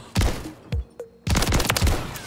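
JAK Maglift Haymaker shotgun firing in Call of Duty MW3: a quick series of sharp, booming blasts, one shot, a pause, two more, then a rapid cluster of shots, loud and close.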